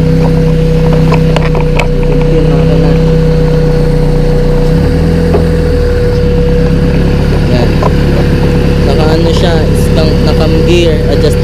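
A Honda Civic EF sedan with a D15 engine, fitted with an adjustable cam gear, Tortuga headers and an HKS mushroom air filter, idles with a steady, even hum that stays close and constant throughout.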